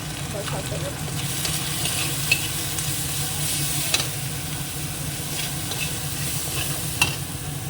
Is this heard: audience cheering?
no